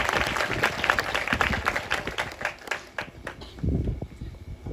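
Church congregation clapping together during a Hindi worship service, a dense burst of hand claps with some voices mixed in, steady then swelling again near the end.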